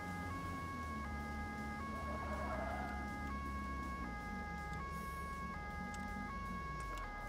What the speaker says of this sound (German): Blaulicht an, Sirene an.